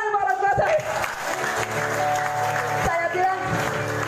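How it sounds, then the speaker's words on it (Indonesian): Audience applause for the speaker's parents during a church testimony talk, a broad, steady clatter of clapping sustained throughout, mixed with crowd noise and voices. "Tepuk tangan buat orang tua saya."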